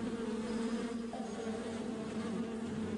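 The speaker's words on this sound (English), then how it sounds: "It involved hiding a colony of stinging bees in soldier-like dummies." A swarm of stinging bees buzzes as a dense, continuous drone that stays close and loud for the whole stretch, with no voices over it.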